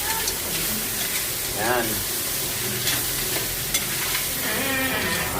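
Food sautéing in a pan with crab, sizzling steadily while being stirred, a continuous close frying hiss with scraping stirs, and a voice speaking briefly over it.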